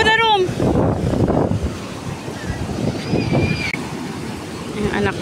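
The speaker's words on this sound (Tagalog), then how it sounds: "Kasi malalaking alon, no?" Large waves roll onto a beach at La Union, a steady broadband wash of surf and wind buffeting the microphone, with people talking and calling out over it.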